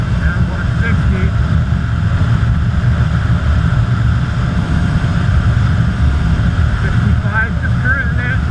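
A Sur Ron Light Bee electric dirt bike rides fast, carrying a loud, steady rush of wind and road roar up close, with faint whining tones appearing near the end and no clear speech.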